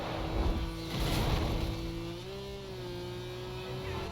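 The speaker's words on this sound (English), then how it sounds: "I could literally tell the engine got louder" An Audi TT's engine in the Need for Speed Most Wanted racing game drones steadily and loudly, its pitch rising and holding through a revving stretch with no talk over it.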